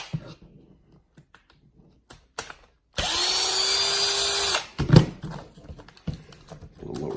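A power drill spins out screws on a Losi 8ight-T RC truck differential, one steady whirring burst of about a second and a half, close and loud, set between quieter handling clicks and clatter.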